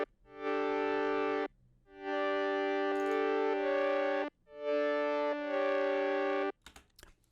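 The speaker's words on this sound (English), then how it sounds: "This is just a saw wave, just pretty standard. I'm using, again, the soft tube distortion and rolling off just a tad of the bass in the EQ up there." Sawtooth-wave synthesizer played through soft tube distortion with a slight bass cut, sounding in three sustained chord phrases of bright, buzzy harmonic tone separated by short gaps, loud and alone.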